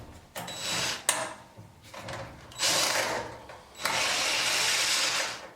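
Screws on the power cord clamp of a clothes dryer are worked loose with a tool in four short bursts of close mechanical whirring and grinding, with pauses between them and no speech.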